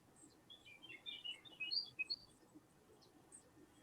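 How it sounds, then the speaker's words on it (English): Birds chirp outside a window in faint, high twittering calls that come in a quick cluster and then thin out to a few scattered notes, distant and soft with no talk. "such beautiful birds are chirping outside your window these days"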